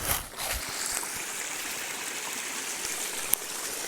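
A cold mountain stream pours steadily at a swimming hole along a long-distance hiking trail, with an even close rushing and gurgling wash throughout and one brief sharp knock near the end.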